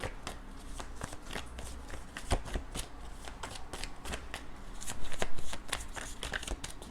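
Tarot cards being shuffled by hand in quick, repeated riffles and slides, close and steady throughout, swelling into a louder flurry near the end.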